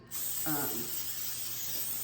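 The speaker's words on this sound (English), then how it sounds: "make sure you spray your casserole dish with a nonstick coating" Nonstick cooking spray hisses into a casserole dish in one steady burst lasting about two seconds, close and fairly loud, with a brief voice-like sound partway through.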